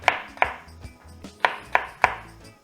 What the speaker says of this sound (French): ensuite les chutes, et ben on les coupe aussi